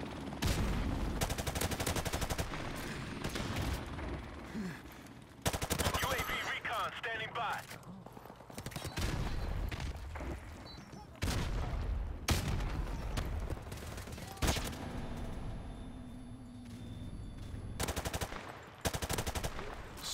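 Bursts of rapid automatic gunfire in Call of Duty 4 Remastered, loud and close, firing in repeated volleys separated by short pauses, with a player talking over parts of the action.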